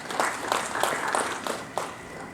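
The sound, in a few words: audience applause as the speaker comes up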